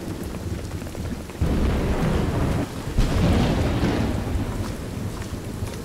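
Heavy rain pours and thunder rumbles in the Call of Duty: Modern Warfare 2 Remastered campaign, a dense steady roar with a sharp surge near the start and rolling swells throughout, no voices.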